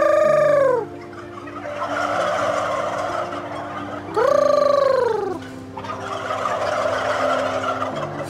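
Farm turkeys gobble loudly in two rattling bursts a few seconds apart, answering a call, over a steady crowded background of birds and barn noise; no talking.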